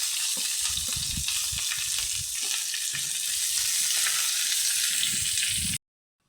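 Onions and green chilies frying with whole cinnamon, cloves and star anise for chicken vermicelli biryani make a loud, dense, steady sizzle close up, with low stirring knocks underneath, before cutting off abruptly.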